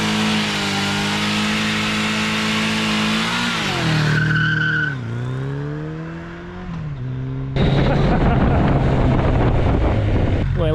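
A 1982 Kawasaki KZ1000 motorcycle engine revs hard and pulls away on old dry, hard tires, the pitch rising and dipping as it shifts, loud and close with heavy wind rush.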